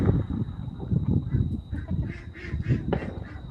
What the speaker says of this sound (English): My little duckies. They're being noisy back there.